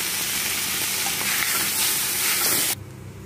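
Egg noodles hit a hot iron pan and fry with a steady close sizzle and stirring scrapes, the sizzle cutting off sharply near the end to leave a quiet hum.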